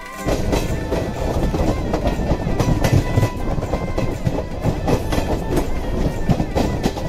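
A train runs on rails on the way to Rajnagar in Bihar, making a steady, loud rumble with a rhythmic clickety-clack of the wheels that carries on without a break.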